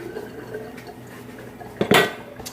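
An old metal cake pan used for cornbread clanks once in a short metallic clatter near the end, after quiet kitchen handling noises.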